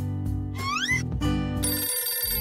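A toy phone made of cardboard in the shape of a cat rings loudly with a warbling electronic ringtone whose pitch sweeps up and down, sounding several times over a steady musical backing.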